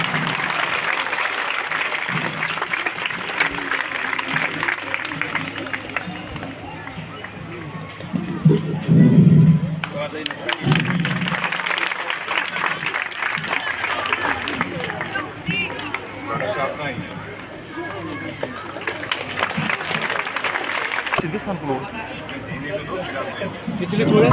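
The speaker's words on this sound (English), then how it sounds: "I have a lot of applause for this winning girl." Sustained applause from a crowd fills the space, clapping steadily throughout with some voices and cheers mixed in.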